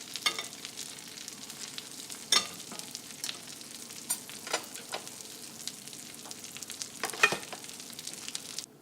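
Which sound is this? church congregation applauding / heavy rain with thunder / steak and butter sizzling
steak and butter sizzling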